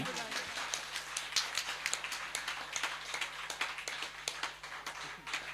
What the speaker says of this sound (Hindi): जो गिरिराज जी का पूजन करने वाले हैं वो जोर से ताली बजाएंगे।